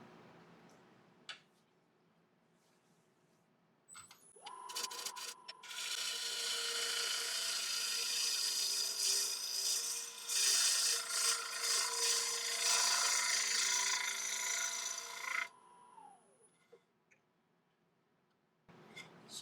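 A heavier ball gouge cuts a punky, cracked hornbeam blank spinning on a wood lathe, a steady close scraping hiss lasting about ten seconds that rises from a quiet hum and stops abruptly.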